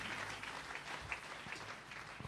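Church congregation applauding at a Palm Sunday service, a steady wash of clapping from many hands that holds at an even level throughout.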